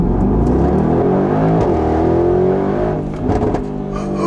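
A Mercedes G63 AMG engine roars loudly and steadily as the SUV accelerates, a dense rising growl heard from inside the vehicle with no talking.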